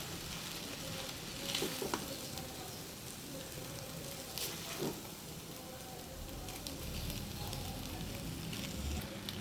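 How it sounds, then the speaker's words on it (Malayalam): Cooked rice is stirred into vegetables in a pan for vegetable rice, a quiet, continuous frying hiss with occasional spoon scrapes and taps, no talking. "ഇനി ഇതിലേക്ക് നമുക്ക് ചോറിട്ട് കൊടുക്കാം. ഇനി മിക്സ് ചെയ്ത് കൊടുക്കാം."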